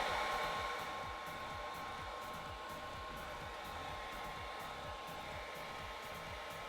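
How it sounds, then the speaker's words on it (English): A hair dryer blows steadily up close on a synthetic wig, a constant airy whir with a low pulsing hum beneath it and no talking. "I'm gonna get my blow dryer, hit it with the hairspray"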